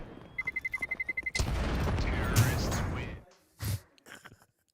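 A bomb detonates in a Counter-Strike esports match, a dense roaring blast of game explosion and gunfire sustained for about two seconds after a run of rapid beeps, then fading into a short quieter burst.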